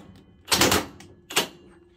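Two loud, harsh broadband bursts from a Parkside Performance PASSP 20 Li cordless impact wrench, A2 or A1 version, hammering on a bolt; a longer burst followed by a shorter one, close up with no talking.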